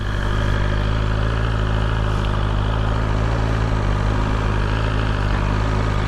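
A 2021 BMW S1000RR motorcycle engine idles continuously at close range, a steady, rumbling, low throbbing hum with no speech over it.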